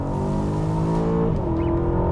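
2021 Aston Martin DBX under hard acceleration, a loud, close engine drone rising in pitch with a brief dip as it shifts gear, then climbing again.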